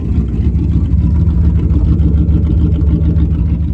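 A 1997 Dodge Ram pickup truck engine idles with a loud, steady low rumble and even throb, running continuously with no voices.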